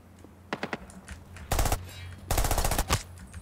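Video game gunfire in the FPS Project L33T: a few quick single shots, then two short, loud automatic bursts, close and sharp.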